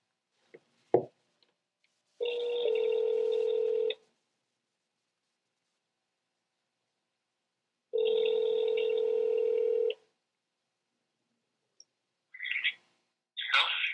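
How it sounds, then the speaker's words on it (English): A phone on speakerphone gives a short tap, then two long repeated ringback tones separated by silence, followed by faint brief chirps, with no other sound around it. "I gotta call Nick, and I'm going to put him on speaker."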